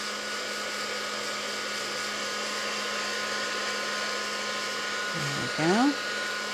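A craft heat tool blows steadily to heat-set distress oxide ink on a tissue background, a constant close whirring hum; a voice speaks briefly near the end.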